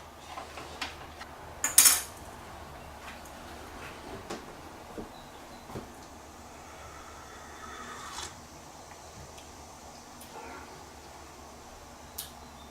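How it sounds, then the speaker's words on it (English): A spoon stirs a couple of sweeteners into a cup of egg coffee, producing a few sparse, light metallic clinks spread across an otherwise quiet stretch. "I am going to put a couple of sweeteners in here. Give it a little stir."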